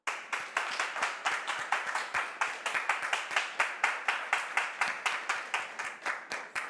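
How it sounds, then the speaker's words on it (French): A studio audience on a television talk show greets a guest with clapping, quieter, fairly rhythmic individual claps that repeat evenly throughout at a moderate distance. "on le reçoit sur ce plateau avec vos applaudissements"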